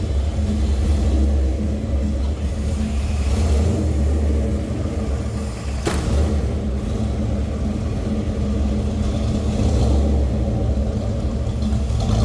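A 1933 Ford Roadster Factory Five replica's engine runs steadily in a deep, loud, rumbling idle with a thick low-end burble, close and continuous, with one brief sharp click partway through.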